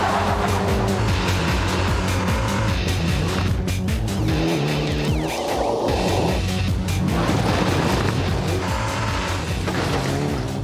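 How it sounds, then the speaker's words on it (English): A Group N Mitsubishi Evo 7 rally car with permanent four-wheel drive roars loudly and continuously, its engine note rising and falling through gear changes, with tires scrabbling on the surface. "this is a Group N Mitsubishi Evo 7."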